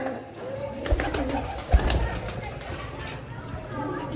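Crested pigeons in a breeder loft coo softly in low, murmuring tones, with a couple of louder thumps and faint voices in the background.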